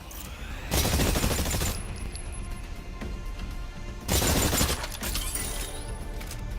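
Gunfire from the video game Exoprimal aimed at distant shattering targets, with two loud sustained bursts of rapid shots and breaking crashes separated by a quieter stretch of game ambience.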